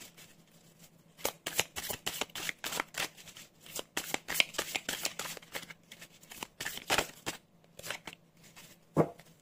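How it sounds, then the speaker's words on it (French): Keyword cards for a card reading being shuffled by hand, a dry, rapid papery riffling in repeated bursts with brief pauses, close and fairly quiet, ending with a single soft thump. "on va aller déjà chercher une carte de mots-clés"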